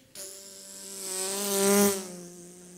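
A human voice imitates a buzzing fly, a steady nasal drone with strong harmonics that swells louder toward the middle and then eases off, sustained alone for nearly three seconds.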